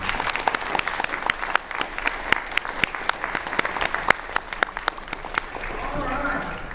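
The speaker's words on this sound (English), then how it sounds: "Let's give her a big round of applause." A crowd at a convention opening ceremony applauds warmly, with sharp individual claps popping out of a continuous wash of clapping and crowd murmur that carries on throughout.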